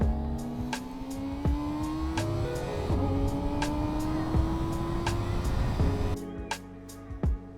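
A car engine rises in pitch as it pulls away and accelerates, with a steady hum and a few clicks and knocks, then cuts off abruptly near the end.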